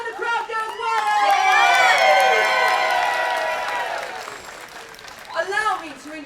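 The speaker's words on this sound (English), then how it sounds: "the crowd goes wild" A large crowd cheers and applauds loudly for several seconds, swelling and then fading, followed by a brief second burst of cheering.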